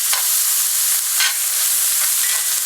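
Onions and green pepper frying in a pan give a steady, close hiss of sizzling oil, broken by a few brief louder crackles, with no voices.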